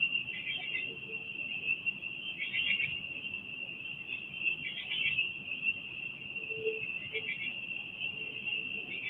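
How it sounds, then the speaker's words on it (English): Crickets chirp outdoors at night in a steady, shimmering chorus with faint pulsing swells. They run continuously at moderate level over a low background hum. "you're also hearing the crickets and all"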